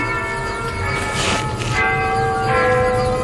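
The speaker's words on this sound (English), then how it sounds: "There's the clock bell." Big Ben's clock bell rings as a radio drama sound effect. Its deep, sustained tones hum steadily, and a fresh strike swells through midway over a faint background hiss.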